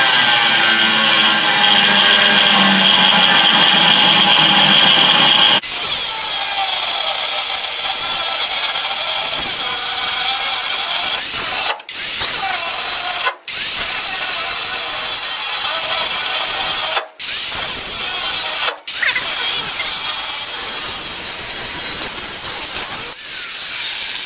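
A power tool cuts a C-notch into the steel frame of a Chevrolet Silverado or GMC Sierra 1500 pickup with a loud, sustained, harsh grind. A few short pauses break the cut.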